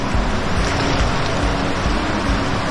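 Someone wades through a river on the East Fork Trail in the Jemez area, with a steady loud rush of flowing water, wind buffeting the microphone and faint splashing thumps from footsteps.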